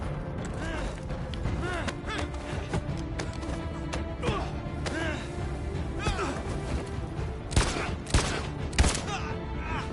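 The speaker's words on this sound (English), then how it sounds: "Oh, Connor shot somebody." Gunshots in the video game Detroit, where the android Connor opens fire: sharp cracks ring out over clattering action, loudest in a cluster near the end, with a person talking throughout.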